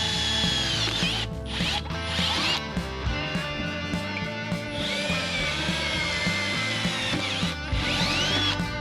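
A 1/8 inch bit drilling holes in race car seat mounting on a 4130 chromoly chassis, a loud close whining drill with ratcheting, grinding pitch changes throughout.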